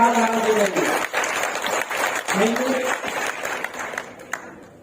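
Strong applause from a training-program audience in Botad, a dense wash of clapping throughout, with a speaking voice breaking in over it in two places before the sound thins out at the end.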